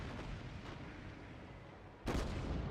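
A warship's main guns fire a salvo in a naval battle video game: after a steady background roar, a sudden loud, heavy blast erupts and rumbles on to the end.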